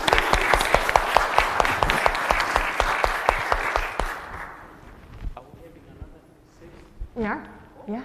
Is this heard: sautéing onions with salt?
no